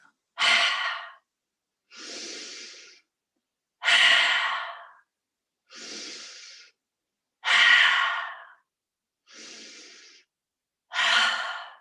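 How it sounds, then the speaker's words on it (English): A person breathes in through the nose and out through the mouth in a slow, even cycle, with seven close breaths. Sharper, louder inhales alternate with softer, breathier exhales, separated by short silences. "Breathing in through the nostrils and then out through the mouth."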